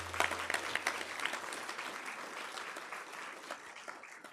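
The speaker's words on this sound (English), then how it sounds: "Please give them a round of applause." An audience at the Sunnyvale State of the City 2024 event claps for board and commission members, a steady ripple of applause from a moderately sized crowd that slowly tapers off.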